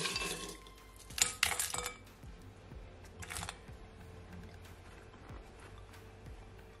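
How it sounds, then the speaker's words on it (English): Lots of ice goes into a glass for a pineapple sorrel drink, making a cluster of bright clinks and rattles close by, followed by a later, smaller clink over a quiet background. "Then I'm gonna add some ice."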